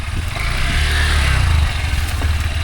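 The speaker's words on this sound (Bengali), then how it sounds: "আমাদের বাইক টিপু নিয়ে যাচ্ছে" A motorbike is ridden away from a riverside picnic spot, its steady low engine rumble fairly loud and continuous for a few seconds, with slight rises in pitch as it pulls off.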